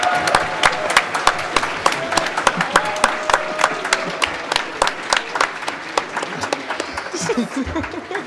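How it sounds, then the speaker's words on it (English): Applause from a live audience at a Super Metroid speedrun marathon event for the Power Up Audio team, a dense sustained clapping with scattered sharp claps, some cheering and faint chuckles, rising slightly toward the end. "Big round of applause."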